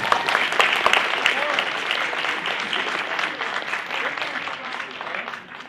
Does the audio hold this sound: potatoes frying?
no